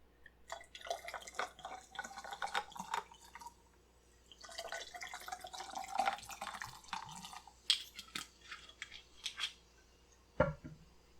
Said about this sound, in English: Top with soda water.